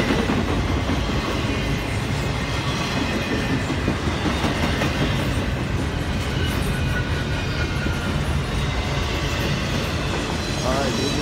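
A train rolls along the tracks at Lake Avenue, Blasdell, New York, a continuous rumbling clatter of wheels with a steady rhythm, fairly close and constant throughout, with a faint squeal near the end.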